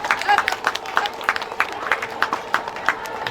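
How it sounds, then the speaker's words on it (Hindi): Children's audience at a school Independence Day event clapping in an irregular, quick patter of hand claps, steady and moderately close. "ताली ताली बजाओ।"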